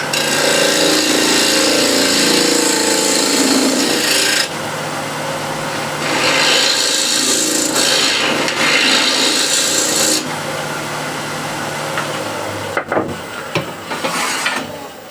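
A spindle gouge cuts a tenon into a spinning wood blank on a lathe, giving a loud, close, continuous rasping scrape in several long passes with short pauses, ending in a few sharp knocks.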